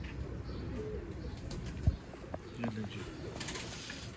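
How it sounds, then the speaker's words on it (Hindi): A Royal Teddy pigeon, white-feathered, gives soft low coos amid rustling and handling noise, with brief flaps and faint background chatter. "चौधरी सही साहब वाला टैडी कबूतर बड़ा सुपर डुपर कबूतर है"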